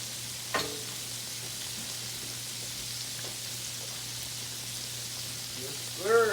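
Mustard-coated pork chops fry steadily in a pan, giving a constant fine sizzle with a low hum beneath and a brief clatter near the start and end.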